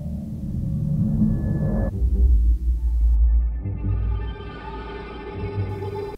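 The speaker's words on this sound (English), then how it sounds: "Here's the low track by itself." The low track of adaptive music from the Angry Bots video game, heard on its own: deep, droning synth tones and rumbling bass that shift partway through, loud and sustained with no talking.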